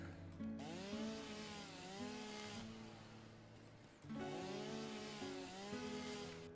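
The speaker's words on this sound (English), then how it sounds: "I need to get my chainsaw out" A video game chainsaw from Satisfactory revs with a rising motor whine that settles into a buzzing drone, then cuts out and revs up again, loud and close.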